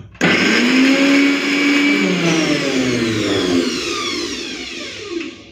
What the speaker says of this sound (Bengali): তো জল ছাড়া আদা রসুনটাকে বেটে নিয়েছি।